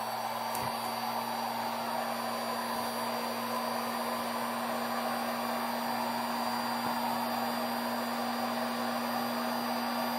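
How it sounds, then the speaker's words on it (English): A heat gun blows steadily over wet acrylic paint, a loud, constant whirring roar with a faint high whine that holds unbroken throughout, with no voices. "I want to give it a quick hit with the heat gun"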